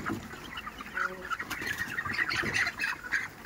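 Broiler chickens about 27 days old fill a poultry farm shed with a steady chorus of cheeping and soft clucking, moderately close and continuous, with no talk.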